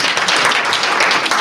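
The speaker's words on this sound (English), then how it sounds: "So give these guys a round of applause." A short, dense burst of group clapping praises a group of people, with many hands patting together loudly and evenly for a second and a half.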